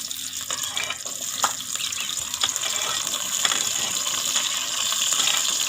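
Okra is washed under running water in a kitchen: a steady tap stream gushes and splashes, with small knocks and clicks as the pods are handled.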